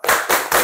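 A classroom group performs the rhythmic 'good job' clap in quick unison, three sharp, loud claps in an even beat with no talking.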